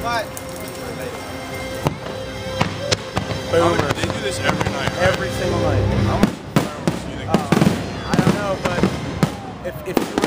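Fireworks crackle and pop in rapid bursts with sharp bangs scattered throughout, amid outdoor noise and distant voices.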